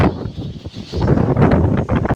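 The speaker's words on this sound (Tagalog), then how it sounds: "Grabe lakas ng hangin!" Strong, gusty super typhoon wind roars and buffets the microphone in a continuous rushing blast, with rustling underneath.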